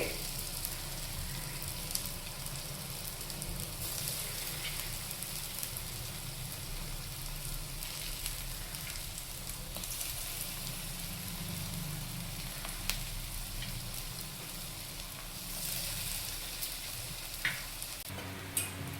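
Vegetable Manchurian balls deep-frying in hot oil over a high flame, a steady dense sizzle and bubbling that runs unbroken throughout, fairly loud and close with no talking.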